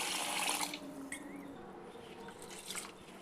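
Rice being washed in water, with a brief splashy rush of water at the start followed by quieter drips and gentle sloshing.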